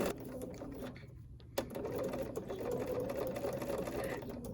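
A sewing machine runs steadily while stitching a foundation paper pieced quilt block, with a close, continuous mechanical whir and a brief pause and restart partway through.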